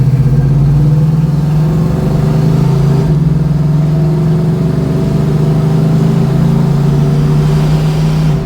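A 1971 Pontiac Firebird driving on the road, its engine droning loudly and steadily with a low hum, a brief shift in pitch about a third of the way through, recorded from inside the car.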